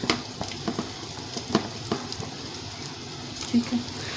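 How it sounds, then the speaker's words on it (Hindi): Chopped onions dropped into hot ghee for chana pulao, giving a steady sizzling fry with faint crackles and a few light clinks of utensils near the pan. "प्याज डालूँगी।"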